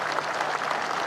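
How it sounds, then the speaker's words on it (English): Steady applause from a large crowd at the Platinum Jubilee celebrations for Queen Elizabeth, a dense, even wash of clapping that holds at one level throughout with no voices over it. "I feel like I shouldn't speak over this applause."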